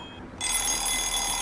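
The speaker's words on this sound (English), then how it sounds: "I was woken by the noise of a alarm clock" Electronic alarm clock ringing inside the Nameless video game, a bright sustained buzzing tone that switches on abruptly and holds steady at a fairly loud level.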